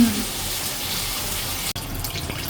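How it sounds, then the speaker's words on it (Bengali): Water poured into a pan of sour tamarind curry as it cooks, a steady running splash lasting a couple of seconds before a brief break, then continuing softly. "এই যে টকের তরকারিতে জল দেওয়া গেছে গা"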